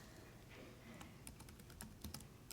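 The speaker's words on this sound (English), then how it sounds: "and then simply type in the new name for the clip that you want to change it to" Soft clicks of typing on a computer keyboard, entering a new clip name in music arrangement software. The keystrokes are quiet and irregular, and several sharper taps stand out toward the end.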